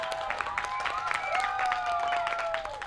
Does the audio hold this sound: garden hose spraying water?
no